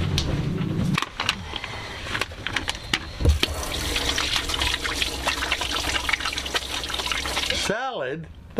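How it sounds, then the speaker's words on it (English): Hands washed under a running tap, water splashing and trickling steadily for several seconds under people talking, then cutting off abruptly near the end. "you gotta wash your hands before you come in."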